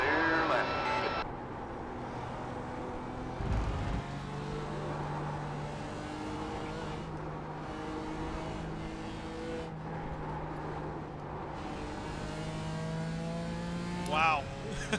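Race cars in the iRacing sim game pass close by with engine drones that rise and fall in pitch, while a voice talks over the running engine noise.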